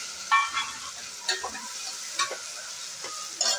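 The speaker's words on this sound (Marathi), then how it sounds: "कांदा हे भाजून झाले, त्याच्यात आता आपण हा कापून घेतलेला बटाटा टाकून घेऊया" Chopped potatoes dropped into a pan of frying onions and dry spices, sizzling steadily while a spoon stirs and scrapes in several distinct strokes, close up with no talk.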